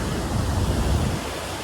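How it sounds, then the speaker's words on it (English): Sea waves break and wash on a shore at Auchmithie near sunset, a steady broad roar of surf with wind rumble on the microphone and no talk. "Some surprisingly good waves tonight."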